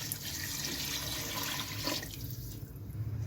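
About 1.5 litres of water is poured into a cooking pot while beef trotters are being prepared for paya, making a continuous hissing, splashing rush that tapers off near the end, close and with no talk.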